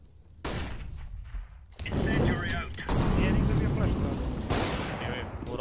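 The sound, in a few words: flashbang grenade thrown in a video game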